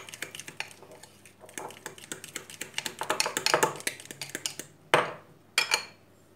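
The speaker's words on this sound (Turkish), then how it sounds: "Karıştırıyorum." A spoon clinks and scrapes against a bowl while stirring a thick, tahini-like dough mixture for pastry, quick rhythmic taps that grow busier before a couple of sharper knocks.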